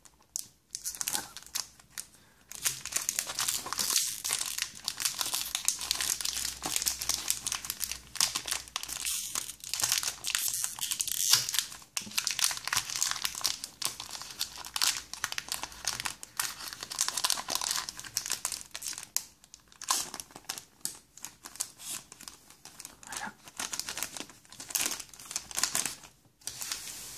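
Foil wrapper of a Pokémon EX Guardians Rising booster pack crinkling and tearing open, close and continuous with sharp crackles and short pauses, no talk.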